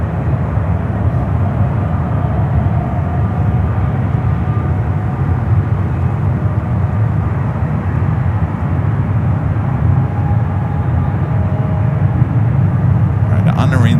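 An airliner rolls down runway 28 Left at San Francisco International Airport, a steady, loud low roar of jet engines that holds unbroken throughout, with a voice talking faintly over it.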